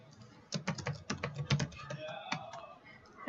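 Typing on a computer keyboard while entering a page number into a document header, with a quick burst of close, crisp key clicks followed by a few scattered taps.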